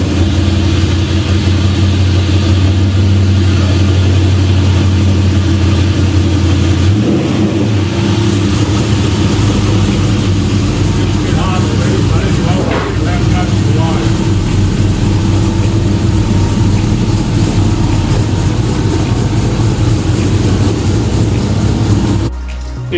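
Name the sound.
1957 Chevy Coupe driving on a test drive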